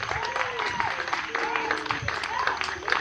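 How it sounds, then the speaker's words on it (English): An audience at a night session of a pro tennis challenge event applauds its tournament director, a steady wash of clapping mixed with overlapping voices throughout. "if we give a round of applause, the man who helped make everything happen here this week"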